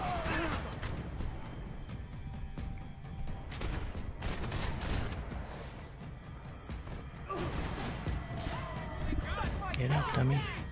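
Gunfire in the video game Max Payne 3, repeated shots and bursts with crashing impacts in a busy firefight, fairly quiet overall, with someone talking over parts of it.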